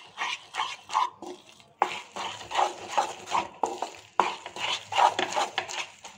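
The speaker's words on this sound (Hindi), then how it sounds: "इसको चलाते जाना है, ये नीचे नहीं लगे, इसलिए इसको हम चलाएंगे।" Peanut powder mixture for laddu is stirred in a pan, giving repeated scraping and clinking strokes of a spoon against metal in a steady rhythm, close up, with no talk.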